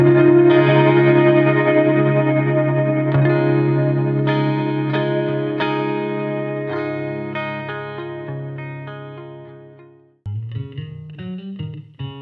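Guitar played through a spacious reverb effect pedal, sustained chords ringing with long washy tails that decay slowly, then a new phrase of picked notes begins near the end; loud and alone with no talking.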